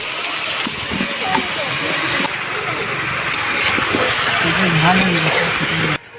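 Chicken pieces and potatoes hit hot fried spice masala in a pan, giving a loud, continuous sizzling hiss that holds steady until cutting off near the end, while a voice talks over it.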